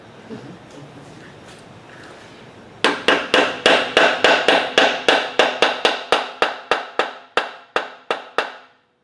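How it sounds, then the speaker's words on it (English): A metal ferrule is pounded onto a lathe-turned wooden tool handle: about twenty sharp, evenly spaced hammer blows ring out close and loud after a quiet start, slowing slightly toward the end. "when you pound the ferrule on, that you take it off the spinning part of the lathe"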